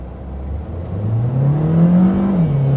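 A front-wheel-drive Mercedes-AMG with a Renault engine accelerates hard from a standstill toward 100 km/h, its engine note rising steadily in pitch, loud and close with no talk over it.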